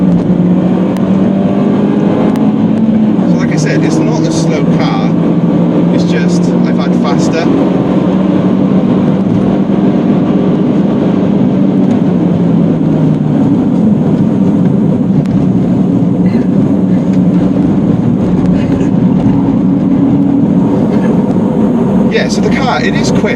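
Peugeot 208 GTI hot hatch driving hard, a steady engine drone from inside the cabin with rising and falling revs as it shifts through gears, loud and continuous throughout.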